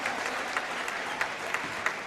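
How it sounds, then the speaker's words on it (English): Crowd applause at a boys' high school basketball senior night game, steady clapping from a moderately distant audience, with a few sharper individual claps standing out. "Absolute clap for that kid."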